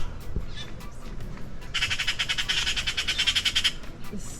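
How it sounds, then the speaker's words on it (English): Tropical birds in a jungle at Akumal, Mexico squawk loudly in a rapid, harsh series lasting a couple of seconds, with a few scattered calls before and after. "Oh, we got some cool birds here."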